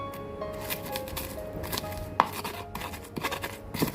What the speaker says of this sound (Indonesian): Mae mau ulek bumbunya ya.